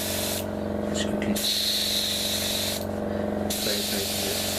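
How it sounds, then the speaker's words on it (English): Spray paint hisses onto a part of a Revell 1/48 F-15E Strike Eagle plastic model kit in two steady bursts, each followed by a brief pause. "spray painting this piece over here."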